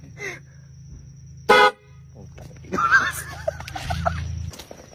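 A car horn stuffed inside a bag as a prank gives a single short loud honk, slightly muffled, amid background chatter and laughter.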